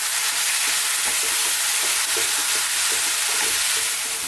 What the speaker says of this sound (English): let's just fry this around just for about 3 to 4 minutes.